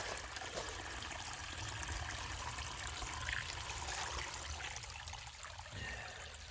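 Steady running water from a gold-panning sluice, a continuous close trickling wash with no talk, the flow holding at an even level throughout.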